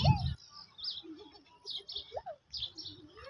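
Pigeons coo softly in low warbling phrases, mixed with brief high chirps, fairly close in a quiet setting.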